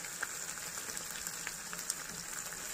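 Chicken liver curry frying in a pan as turmeric goes in, a soft steady sizzle with faint crackles throughout, low and even with no voices.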